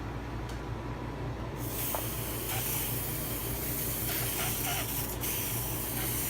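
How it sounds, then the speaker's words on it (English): A steady, continuous hiss of shellac sprayed from an aerosol can at close range, running almost the whole time with a few brief sharp ticks over a low hum. "I'm about ready to give it a spray. I'm using shellac because it'll dry faster."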